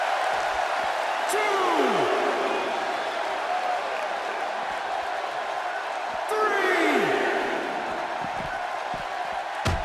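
Arena crowd in the WWE 2K16 wrestling game keeps up a steady roar of cheering, with a couple of sharp impact thuds, while a commentator talks over it throughout.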